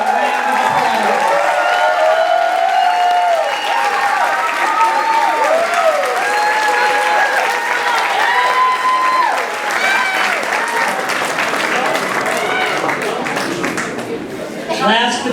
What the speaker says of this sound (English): so please stand for one final round of applause